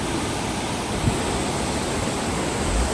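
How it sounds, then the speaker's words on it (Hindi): Mountain waterfall heard as a steady, broad rushing roar of falling water, continuous and fairly close, with a faint low thump partway through. "यहाँ के झरना देखियो देख रहा है"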